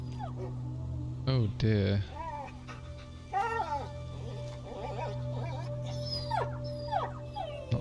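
In the video game A Plague Tale, a wounded dog whimpers and lets out rising, wavering howls and whines, moderately loud over a low steady hum, with a person talking briefly in between.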